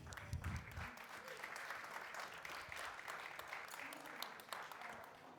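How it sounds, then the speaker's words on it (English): Audience at a reverse pitching event applauds to welcome a judge, a soft, diffuse spread of clapping heard somewhat distant and quiet, lasting the whole stretch. "Round of applause."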